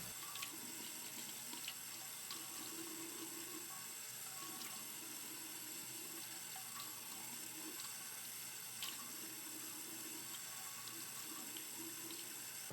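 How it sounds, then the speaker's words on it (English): Tap water runs steadily into a sink as hands are washed under it for wudu, a continuous close hiss with faint splashing and small clicks throughout. "The next step is to wash our hands 3 times."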